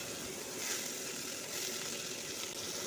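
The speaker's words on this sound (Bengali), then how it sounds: "তো এখন দেখো আমি আলুটাকে দিয়ে দিয়েছি ভাজার জন্যে।" Potatoes frying in hot oil in a home kitchen give a steady, even sizzle with no break, close and moderately loud, and nobody talks.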